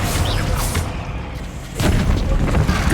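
Confringo and Fendo spells cast in Hogwarts Legacy, loud booming blasts one after another, with a dense burst of impact noise and explosive rumble.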